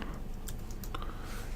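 Typing on a computer keyboard while entering a search term into a Unity app-development interface, with a few quick, close key clicks in a short burst over quiet room tone.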